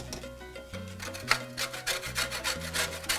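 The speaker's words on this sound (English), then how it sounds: "But I'm not going to add it whole. I'm actually going to grate it." A bar of chocolate is grated by hand for hot chocolate, giving quick, faint, rhythmic rasping strokes close by.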